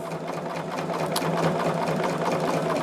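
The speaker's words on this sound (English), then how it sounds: "I'm just sewing this corner to corner." A sewing machine stitches a quilt block corner to corner, a loud, steady close-up mechanical whir that runs throughout with no talking.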